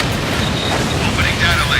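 A missile fires and explodes in the jet combat game Ace Combat Infinity, a loud sustained rumbling blast with roaring engine noise and radio chatter layered over it.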